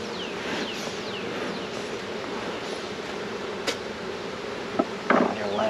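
A large honeybee colony in an open hive hums as a loud, steady, dense drone throughout, with bees passing close by and a few sharp knocks near the end.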